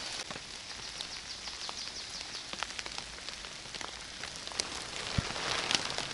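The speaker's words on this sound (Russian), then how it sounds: "Идет дождь, а птички радуются." Steady rain patters on leaves in a forest during a June mushroom-picking outing, a soft continuous hiss with scattered drips and faint bird calls, heard alone without talk.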